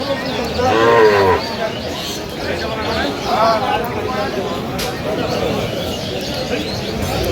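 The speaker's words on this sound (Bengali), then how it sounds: "সুন্দর এক গাভী বাচ্চা আমরা দেখছি।" A cow moos loudly twice, long drawn-out lows rising over the busy chatter and bustle of a crowded livestock market at Aftabganj with people talking all around.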